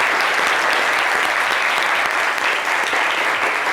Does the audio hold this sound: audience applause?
yes